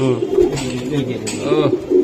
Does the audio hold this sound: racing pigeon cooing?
yes